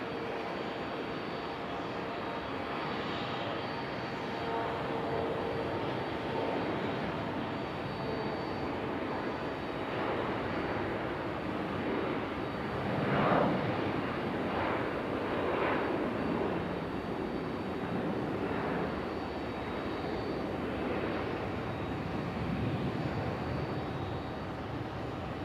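A Republic Airways jet airliner at Raleigh-Durham International Airport gives off a long, steady engine roar with broadband rumble, swelling slightly midway, heard from a distance and without voices.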